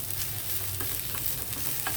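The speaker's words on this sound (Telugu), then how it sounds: "ఇందులో చక్కగా వేగింది మన తాలింపు." Tempering with coriander and curry leaves frying in a pan, a dense continuous sizzle with faint crackles and stirring.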